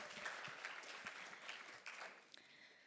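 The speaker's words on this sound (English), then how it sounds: "Everyone give Vic a round of applause." A small group applauds for Vic at a creators' mastermind session, faint, fairly sparse clapping with a few distinct individual claps, heard without any talking.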